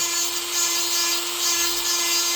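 A Dremel rotary tool sharpens a chainsaw chain, giving a steady, high-pitched grinding whine that holds continuously and close up, with no talk.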